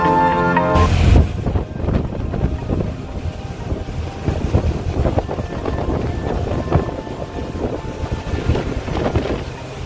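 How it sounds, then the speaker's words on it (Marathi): A ferry boat pulls away from the Bagmandla jetty onto the open sea: a steady, loud rumble of engine and churning water blends with wind buffeting the microphone throughout, with no talking. "चला आता बोट निघलेली आहे"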